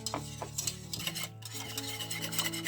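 A spoon scrapes and clinks rhythmically against a bowl while a thick honey gingerbread batter with baking soda is stirred, close up and fairly quiet.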